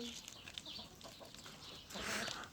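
Chickens cluck and chatter in a busy coop, with a louder burst of bird calls near the end over a steady background murmur.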